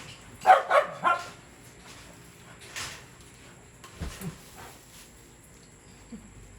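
A dog barks three times in quick succession, close by, followed by a few softer yips and scuffling sounds spread out over the rest.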